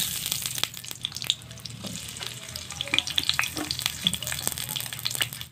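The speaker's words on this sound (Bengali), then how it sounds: "এবার কেটে রাখা আলু ভেজে নেব।" Sliced potatoes fry in hot oil in a wok while fish is being cooked, giving a steady, close sizzle with scattered crackles and occasional scraping stirs, and no voices.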